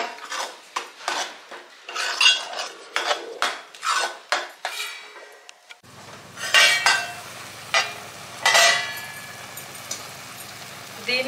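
Spoon stirring garam masala and chole in a pan, a series of sharp metallic scrapes and clinks in irregular rhythm, close and fairly loud, with a low steady hum entering midway.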